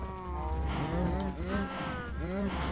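Cows mooing in the video game Minecraft, several overlapping low drawn-out moos in quick succession, close and fairly loud.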